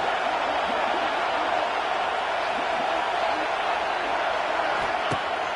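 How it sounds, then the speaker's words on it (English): A large American football stadium crowd roars in a steady, dense wall of cheering and noise, with faint whistles and shouts rising from the mass. "Listen to this crowd."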